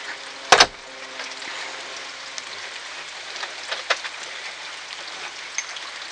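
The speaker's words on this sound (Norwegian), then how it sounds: "Det regner ordentlig." Heavy rain hissing steadily as a dense, even wash, with a few sharper drops and a loud thump near the start, close and fairly loud without any talking.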